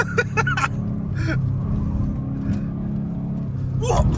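A Ford Mustang's engine drones steadily while driving, a low continuous rumble with a slight swell near the end, and brief voices break in over it.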